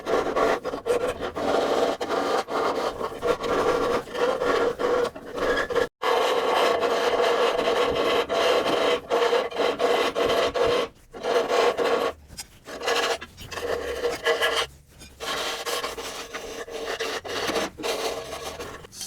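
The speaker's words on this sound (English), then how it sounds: "It'd be a lot faster with power tools, but this works" A hand file rasps steadily over rusted metal on an old VW during a rust repair, with continuous back-and-forth strokes, close and loud, and a few brief pauses between passes.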